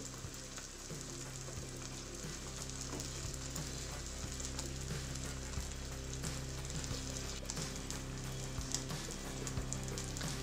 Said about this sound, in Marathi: या अंड्याचे बॅटर आता तव्यावर टाकून घेऊ।